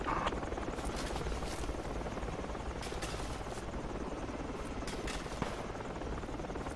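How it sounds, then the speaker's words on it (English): A helicopter in the military video game Project Reality drones steadily with a constant rotor buzz, fairly faint and unbroken from start to finish. "That heli's probably gonna get messed up if it goes past this hill."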